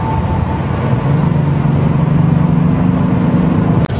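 2023 Genesis G90 with a supercharged 3.5 T-GDi engine and active sound design set to strong, accelerating with a steady rising engine hum inside the cabin, ending with a sharp click.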